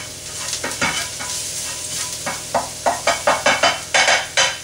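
Garlic sizzles in a hot pan with a steady crackle, punctuated by a series of sharp scraping knocks as it is stirred.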